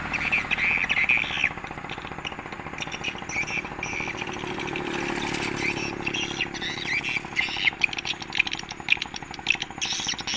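Bright, rapid swallow calls played from a speaker repeat through a constant, loud mechanical drone, with chirps clustering densely at the start and again toward the end.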